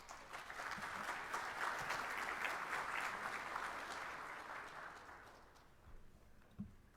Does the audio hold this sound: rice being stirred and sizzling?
no